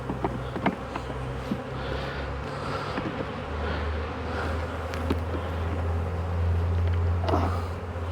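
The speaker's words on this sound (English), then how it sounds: "Those are just some bees dorking around in there." Honeybees in a small nuc hive give off a steady, close insect hum with a low drone, faint clicks and rustles over it, and no talking.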